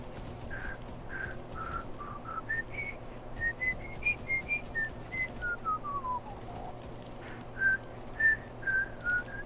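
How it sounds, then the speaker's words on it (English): A person whistles a wandering melody of short notes, rising, falling and sliding, over a steady low hum of game background noise during a Division 2 session. "Who's whistling?"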